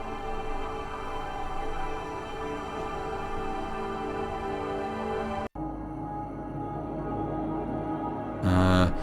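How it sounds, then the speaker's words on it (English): Looping ambient synth textures built with Alchemy and Reaktor, a dense steady wash of sound that shifts character midway and swells into a brighter burst near the end, with no voices. "So I've got these kind of looping sounds which sound like this."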